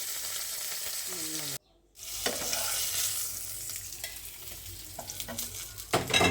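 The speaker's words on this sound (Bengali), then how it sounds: "তো কড়াইতে পরিমাণ মতো তেল দিয়ে মাছগুলো ভেজে নেব।" Spiced fish frying in oil in a wok, a loud, close sizzle broken by a brief silent gap, then continuing with stirring clatter and a few faint vocal sounds.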